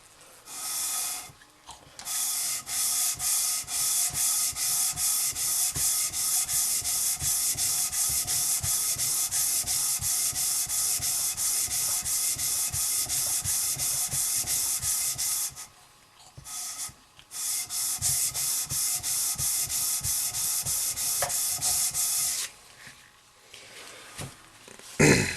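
Steady rhythmic rubbing of fine-grit sandpaper across a hydrostat motor part during a rebuild, close and continuous with brief pauses, dense scratchy strokes throughout.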